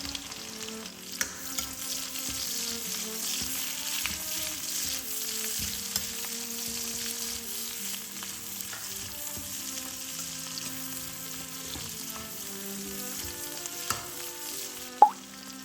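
Scallion sections and pork belly stir-frying in a pan with garlic and ginger, making a steady moderate sizzle with occasional sharp pops and utensil knocks, one louder clack near the end.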